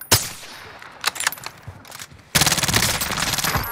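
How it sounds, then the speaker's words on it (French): Gunfire in the video game Call of Duty Warzone: a few sharp isolated shots, then a sudden sustained burst of rapid automatic fire that rattles on to the end, loud and close. "On tire dessus."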